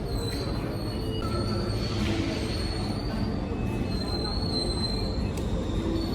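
A Rome metro train runs underground, giving a loud, continuous rumble with high wheel squeals and whining tones throughout, and no clear talking.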